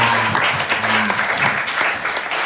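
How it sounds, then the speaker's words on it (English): Crowd at a stand-up comedy show clapping loudly and continuously, a dense rattle of many hands with brief voices and cheers poking through. "I want you to give one more big round of applause."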